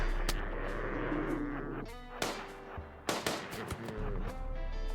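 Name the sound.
gunfire in the video game RimWorld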